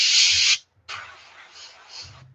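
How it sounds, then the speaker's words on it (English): Paint spray hisses in close bursts as a pike-pattern jerkbait lure is coated along a stencil, a long steady spray, a short pause, then a second longer pass. "I'm just spraying literally like along the stencil very carefully"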